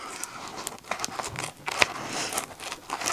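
Quick crisp snips of scissors cutting, a few sharp clicks and rustles close by, with light crinkling between cuts.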